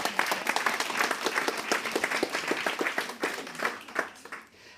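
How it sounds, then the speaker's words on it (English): Church-style audience applause? No: a lecture audience at a forensics talk bursts into dense, close applause that holds steady for several seconds before thinning out and fading at the end. "Give her a round of applause."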